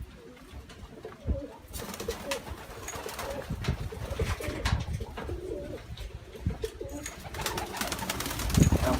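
Bulgarian breed domestic pigeons coo repeatedly at close range, low throaty calls overlapping against a breezy, rustling background with occasional louder bursts, at a windy spot in the Kaz Mountain foothills.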